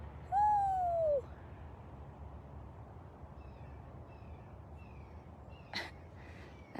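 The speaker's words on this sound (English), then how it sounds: "I had a bird answer me, but not Gilligan." A bird near a big cat rescue enclosure calls back once with a loud, drawn-out descending note, followed by quiet outdoor ambience and a faint short sound near the end.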